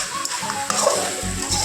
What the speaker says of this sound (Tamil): இந்த மாதிரி போட்டு நல்லா கிளறி விடுங்க.